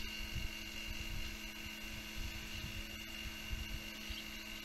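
An electric Telemaster B-27 RC model airplane flies overhead with a steady, whining electric-motor drone and a constant mid-level hum that holds throughout.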